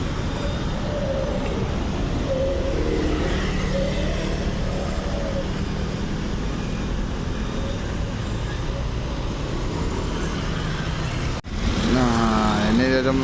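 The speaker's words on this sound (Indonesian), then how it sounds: "mobil pariwisata yang boleh lewat nih kayak gini kendaraannya" Tourist cars pass on the landslide-damaged road through Lembah Anai, a continuous close traffic rumble of engines and tyres with a vehicle rising in pitch near the end, while someone talks over it.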